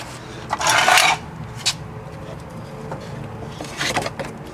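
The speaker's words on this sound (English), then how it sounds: "Pull the belt off." A drive belt being pulled off the engine pulleys of a 2002 Mitsubishi Lancer, heard as a short, close scraping rasp followed by a brief knock and another quick rub near the end.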